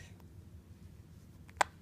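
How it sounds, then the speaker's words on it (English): A baby hiccups once, a single short, sharp hiccup standing clear above a low background hum near the end. "Oh, the hiccups."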